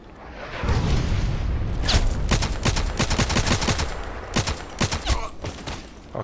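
Rapid gunfire in the Contract Wars shooter game, a dense volley of sharp cracking shots and bursts that crowd together loudly, then thin into scattered single reports near the end.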